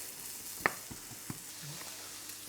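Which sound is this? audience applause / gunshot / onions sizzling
onions sizzling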